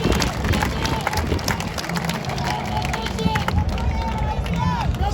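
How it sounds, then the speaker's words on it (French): A crowd applauds at an inauguration of a dry port in Sakania, Haut-Katanga, with dense continuous clapping mixed with babble and voices over a loudspeaker. "je demande à l'assistance d'applaudir pour encourager les efforts consentis par"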